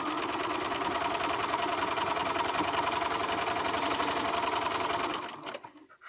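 Sewing machine running steadily as it stitches straight down a fabric edge for a fabric tissue holder, a continuous loud mechanical whir that stops abruptly near the end.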